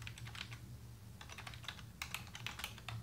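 Typing on a computer keyboard, quick bursts of light key clicks with a short pause, close and faint.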